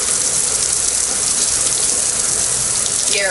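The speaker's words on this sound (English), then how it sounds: "We could turn the water down a little" A garden hose sprays at a car wash, giving a loud, steady, close-up hiss of gushing water that holds unbroken for several seconds.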